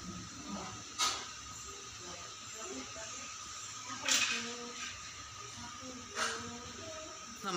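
Water with tea powder heats toward a boil over a coconut-shell fire, a soft steady hiss with occasional brief louder puffs of steam, faint and close.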